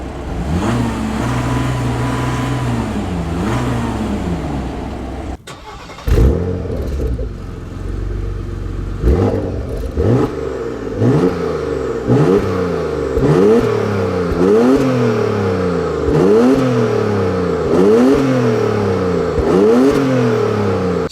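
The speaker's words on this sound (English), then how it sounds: "I'm gonna show you what both of these cars sound like when you're revving them" Porsche Macan Turbo and Macan S Diesel engines rev one after the other, a low idle broken by a pause, then a series of repeated rising revs that climb and fall in regular bursts, loud and close without talk.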